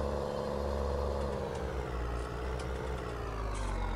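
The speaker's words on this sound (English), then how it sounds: "This tractor sounds nuts, I love it." A tractor engine runs in the Farming Simulator 19 video game, a loud steady rumbling drone that holds without a break.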